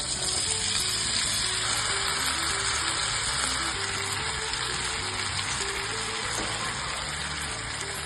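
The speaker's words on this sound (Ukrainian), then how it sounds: "На пательню наливаємо олію та обсмажуємо картоплю." Potatoes frying in oil in a pan while making Bulgarian-style moussaka, a continuous crackling sizzle at steady, moderate loudness with no talking.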